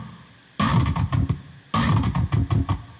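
FM8 growl synth patch with a Wow vocal-formant effect, built in Ableton Live: two loud, sustained wobbling growl phrases with a short gap between them, throbbing rhythmically and heard alone.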